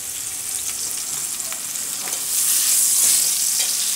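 Carrots, onions and garlic browning in a pan for osso buco give off a steady close sizzle and crackle, growing louder after a couple of seconds, with no one talking.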